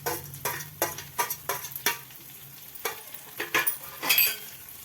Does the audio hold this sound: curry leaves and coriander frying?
yes